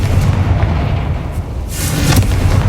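Confringo fire spell in Hogwarts Legacy bursts with a loud, close, rumbling explosion and booming blast, a heavy low roar sustained across the moment with a second crackling burst near the end.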